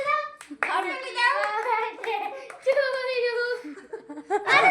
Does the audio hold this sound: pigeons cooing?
no